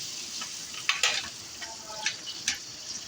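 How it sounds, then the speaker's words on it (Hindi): Ginger garlic paste sizzles in a hot frying pan as it is stirred, a steady close hiss broken by a few scraping stirs, with no talk. "तो मैं अब डाल रही हूँ तकरीबन 1 टेबलस्पून के करीब अदरक लहसुन का पेस्ट"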